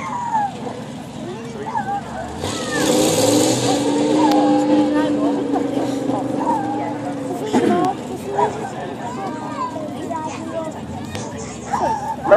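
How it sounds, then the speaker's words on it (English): A monster truck drives at an outdoor fire engine rally in a park, its engine roaring and revving in a long swell with tyre noise, while an announcer talks over a loudspeaker and a crowd murmurs. "He's steering the truck."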